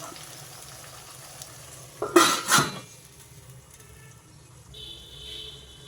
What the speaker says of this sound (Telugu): ఇదంతా ఒకసారి కలిపేసి మూత పెట్టి టమాటా మగ్గనివ్వాలి